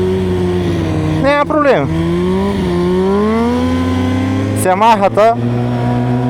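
A motorcycle riding on its rear wheel revs hard nearby, engine note rising and falling with two sharp bursts of throttle over a steady drone, while people talk over it.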